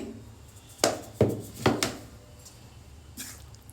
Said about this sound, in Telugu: దీన్ని బాగా కలిపేసుకుందాము